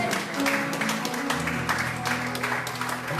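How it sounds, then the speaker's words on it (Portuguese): A church congregation claps during a worship service, steady applause filling the room over sustained musical tones and a murmur of voices. "Você pode aplaudir o Senhor?"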